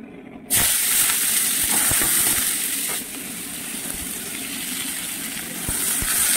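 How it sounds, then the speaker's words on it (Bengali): Chopped potatoes hitting hot oil in a wok-style kadai, a steady loud hiss and sizzle that starts abruptly and carries on with a few small pops and clatters, no talking. "এই যে তো এবার আলুটা একটু ভাজা বসাবো।"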